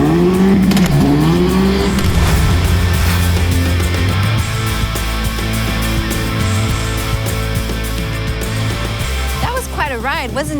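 A Hyundai N race car's exhaust roars loudly and continuously as it drives through a tunnel, the engine droning and revving close by, with talk in the background.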